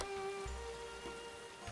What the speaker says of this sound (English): Oh, rainy season.